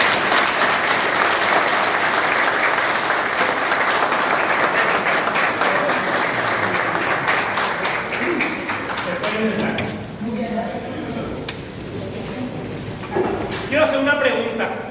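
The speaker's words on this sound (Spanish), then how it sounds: "les quiero pedir que juntos le demos un aplauso a estos candidatos" Audience applause for election candidates at a political presentation, a dense, loud wash of clapping that thins after about ten seconds into scattered claps and crowd murmur, with a brief renewed burst near the end.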